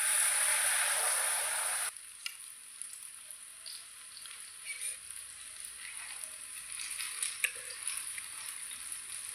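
Snacks frying in hot oil, a loud dense sizzle for the first couple of seconds, then dropping to a quieter crackle with scattered pops and bubbling, with no voices.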